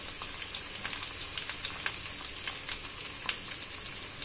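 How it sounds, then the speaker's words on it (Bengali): Carrots, beans, pointed gourd and papaya sizzling in a frying pan, a steady soft crackle with small pops scattered throughout, heard alone without talk. "সমস্ত দিয়ে আমি ভেজে নিচ্ছি"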